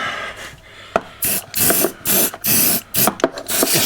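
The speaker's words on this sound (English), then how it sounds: "spraying the wires with a bit of silicone oil" Repeated short hissing bursts of silicone oil sprayed from an aerosol can onto tightly packed wires in a wiring loom, close and fairly loud, about eight quick sprays in an uneven rhythm with brief pauses.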